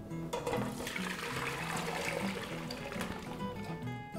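Cioppino broth being drained through a strainer to remove the solids, a steady rushing pour of liquid that runs continuously from start to finish.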